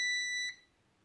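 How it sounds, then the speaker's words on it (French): Mini drone remote controller, a Virhuck Volar-360, emits a single high electronic beep lasting about half a second as it pairs, then cuts off, leaving quiet room tone. "Vous avez entendu le bip. Là, ça veut dire qu'il a appairé."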